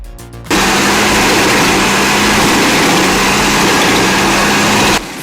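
A powerful MU Max wood chipper engine runs loud and steady at close range while long logs are fed through, starting abruptly after a brief quiet moment and holding an even drone to the end.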